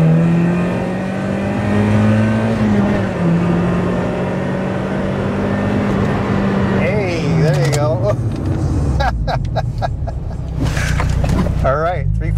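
A 2002 Mazda Miata SE makes a 0 to 60 acceleration run, its engine note climbing steadily through the gears with brief dips at shifts, loud and close from inside the car, then settling as it slows.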